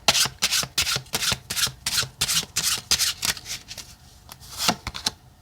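Oracle cards being shuffled during a weekly tarot reading, a steady run of crisp riffling and sliding bursts close up, with no one talking.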